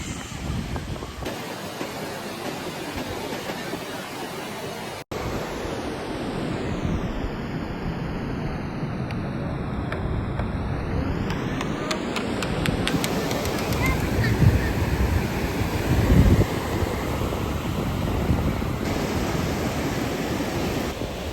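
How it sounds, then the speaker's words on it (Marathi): Surf washes in at Anjanvel beach on the Konkan coast, a broad continuous roar with wind buffeting the microphone, while voices talk over it. "फायनली आम्ही बीचला पोहोचलोय."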